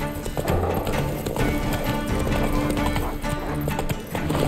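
A horse gallops in The Witcher 3 video game with dense, rapid hoof clip-clops under a loud game soundscape, continuing steadily throughout.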